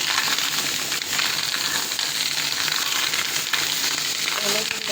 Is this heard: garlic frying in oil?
yes